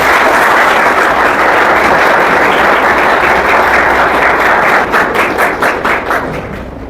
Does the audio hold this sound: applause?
yes